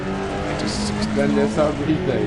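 Engine of a rally car in DiRT Rally 2.0 on an Argentina stage, a steady droning engine note under someone talking throughout.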